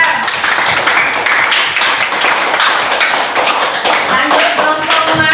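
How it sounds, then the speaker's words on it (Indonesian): Classroom clapping for a student group during an Islamic religious education lesson, loose and uneven with some taps and thumps mixed in and faint voices underneath. "Tepuk tangan untuk kelompok Abu Bakar."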